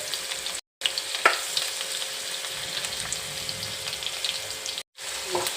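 Garlic cloves dropped into hot oil in a pan one after another for a fish curry, sizzling and crackling steadily and close up, with no voices.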